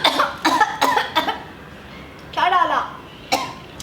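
A woman coughs in a quick cluster of four or five dry, close coughs, then gives one more throaty cough and a last short one after a pause, with no talking around them.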